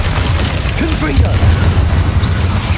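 A Confringo blasting spell in Hogwarts Legacy goes off as a loud, sustained booming rumble with crackling debris, and a voice is briefly heard under the blast.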